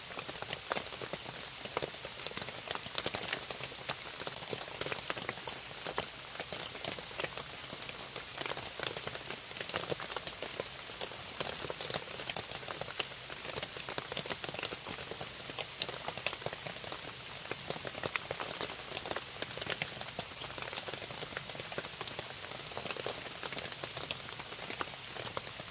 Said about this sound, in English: If this rain ever quits.